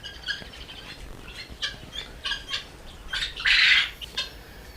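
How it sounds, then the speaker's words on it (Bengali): Several short, sharp squawks and chirps from Japanese quails on a farm of about three hundred birds, in a quick scattered series, with one louder harsh call near the end; no voices. "এই এখানে আমার কোয়েল পাখি আছে তিনশো পিস"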